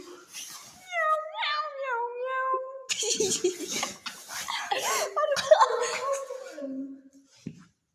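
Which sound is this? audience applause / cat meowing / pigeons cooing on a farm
cat meowing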